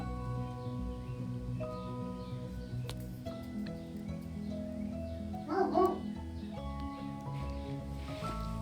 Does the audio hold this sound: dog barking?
yes